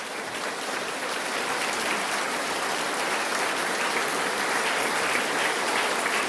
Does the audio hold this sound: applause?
yes